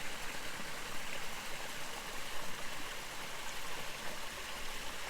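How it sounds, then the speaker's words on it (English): A small creek on the Buffalo River Trail in Arkansas flows steadily with a close, continuous watery rush and babble, even and unbroken throughout with no voices. "just crossed this beautiful little creek here, this little stream"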